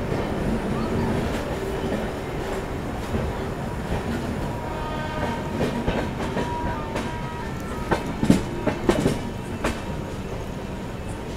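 A passenger train runs on rails between stations en route to Secunderabad, with steady rumbling wagon noise, rhythmic clickety-clack and a few sharper clanks near the end, close and continuous.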